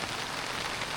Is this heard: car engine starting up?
no